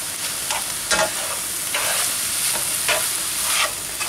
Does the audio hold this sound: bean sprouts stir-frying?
yes